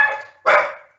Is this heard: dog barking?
yes